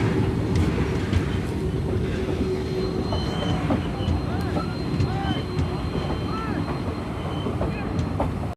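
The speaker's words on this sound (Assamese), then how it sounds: "দেখিছেনে ট্ৰেইন এখন পেচেঞ্জাৰ ট্ৰেইন নহয় এইবিলাক মাল আনিছে বস্তু আনিছে" A goods train hauling cargo rumbles past close by in a loud, continuous roll, with shrill wheel squeals rising and falling over the steady rattle of the wagons.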